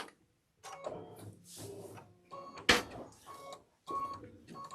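Sewing machine stitching a fabric book bag, with short bursts of mechanical whirring and clatter separated by brief stops, close and fairly loud with no talk.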